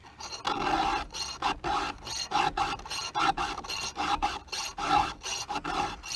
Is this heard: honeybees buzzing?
no